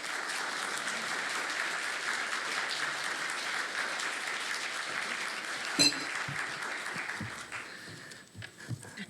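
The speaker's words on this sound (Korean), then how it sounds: "우리가 환영하는 의미로서 함께 박수로 맞이하시겠습니다." Church congregation applauding to welcome the pastor before a youth worship sermon, a steady dense wash of clapping that fades near the end.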